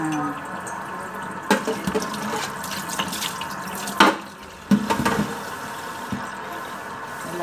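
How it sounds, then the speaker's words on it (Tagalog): Tap water runs into a sink in short bursts and splashes, fairly close and moderately loud, with intermittent clatter and handling noise between flows. "Lagyan ng tubig."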